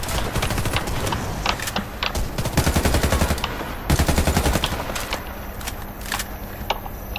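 Rapid automatic gunfire in the Warface shooter video game, dense bursts of sharp shots rattling almost continuously with brief gaps, loud and close.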